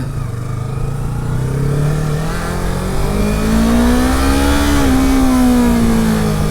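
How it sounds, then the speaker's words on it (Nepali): A motorcycle engine roars steadily while riding, its pitch climbing as the rider accelerates and holds speed, loud and close with a constant rush of wind noise underneath and no talking. "पुरै रन्किरहेको बाइक त आज"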